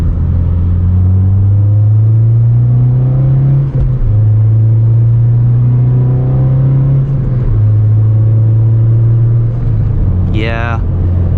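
Steady engine drone of a 9th-generation Honda Civic Si with VTEC, intake audible under acceleration, low harmonic hum rising and resetting through the gears, loud and close, with a brief chirp near the end.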